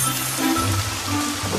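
Steady rain falls on a surface in a continuous, fairly loud wash with no talking.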